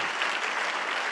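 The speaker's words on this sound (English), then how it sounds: "Yell over the people clapping for you." A crowd claps for a political speaker in a steady, dense wash of applause, brief and fairly loud, with no individual claps standing out.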